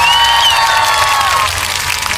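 Applause and cheering from a small crowd, likely children, celebrating a repaired flashlight lighting up; dense clapping with a few voices shouting over it, loud and steady throughout.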